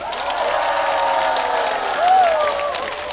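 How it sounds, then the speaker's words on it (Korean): A concert audience aboard an Osaka cruise claps and cheers at the show's opening, a steady wash of applause with whoops and shouts rising near the end, loud and close. "여러분의 박수와 함성으로 출발합니다"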